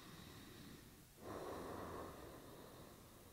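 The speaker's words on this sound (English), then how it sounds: "it makes this Darth Vader sound, so you're constricting the back of your throat slightly on your inhales and exhales" Ujjayi-style yoga breathing through a slightly constricted throat, a soft, airy rasp like a sci-fi mask breather; one steady hushing breath swells up after a quiet start and then tapers off, close and fairly faint, with no talking.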